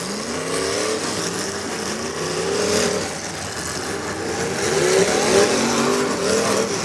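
Race cars accelerate at a green flag start, engines roaring close and loud with rising and falling notes as several cars surge past, with no talking.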